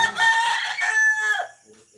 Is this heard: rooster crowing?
yes